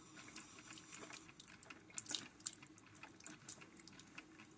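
A $15 Mainstays 12-cup coffee maker from Walmart pouring hot water onto ramen noodles, giving faint, irregular drips and soft trickling over a quiet hiss.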